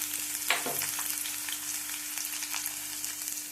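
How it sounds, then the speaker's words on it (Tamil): Lentils and crushed garlic fry in hot oil with a steady, dense sizzle and crackle, plus one brief stir-like clatter near the start, close up with no voices. "பருப்பு எல்லாம் நல்லா பொன்னிறமாக பொறிஞ்சு வரட்டும்"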